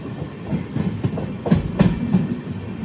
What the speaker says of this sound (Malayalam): ട്രെയിൻ ഇപ്പോൾ ഇതാ കാസർഗോഡ് റെയിൽവേ സ്റ്റേഷനിലേക്ക് എത്തുകയാണ്.